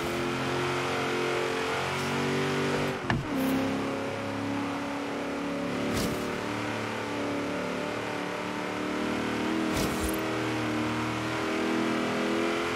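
A car engine in the Forza Horizon 3 racing game holds a loud, steady harmonic drone, with brief gear-shift dips and revving surges around three, six and ten seconds.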